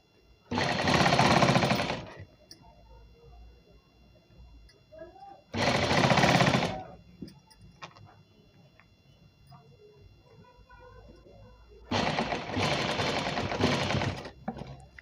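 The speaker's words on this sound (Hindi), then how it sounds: "अब इसको हम पूरी गोलाई से सिलाई देते चले जाएंगे इस तरह से।" Domestic sewing machine stitching around the full circumference of a four-panel petticoat, running in three loud, steady whirring bursts of about two seconds each, with quieter gaps between where someone talks.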